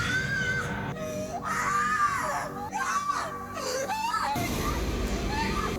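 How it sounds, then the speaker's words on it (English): Screams and anguished cries from a horror film scene in The Exorcist III: Legion (1990), where someone discovers a dead body, rising and wavering continuously and loudly for several seconds with no clear speech. "the screaming you thought was the laughter, but it kind of melded into screams and cries of someone that found the dead body"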